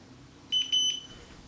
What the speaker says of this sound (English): There's the beep, 10 seconds of rest before we switch to our next exercise.